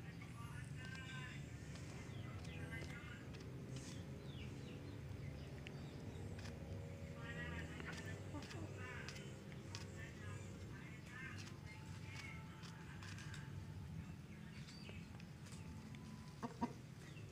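A chicken pecks at bread held close by hand, with repeated soft clucks and low throaty calls over a steady background hum, fairly faint and near, with a few sharp tapping sounds.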